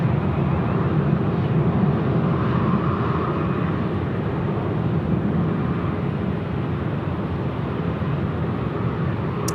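Airbus A380 airliner at Sydney Airport at night, a loud, steady broadband engine roar holding evenly throughout with no break, heard alone.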